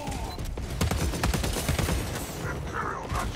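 Rapid bursts of gunfire from a burst-fire gun in the Warhammer 40K game Space Marine 2 PvP, dense overlapping shots filling the whole stretch, loud and close with battle noise around them.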